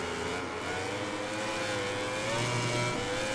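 A racing motorcycle in MotoGP 2020 holds a steady, loud engine drone with a rising whine, dropping into first gear for a tight corner; no voices.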